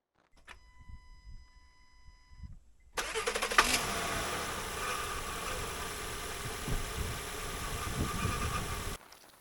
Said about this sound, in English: We're gonna try to fire it up, see what happens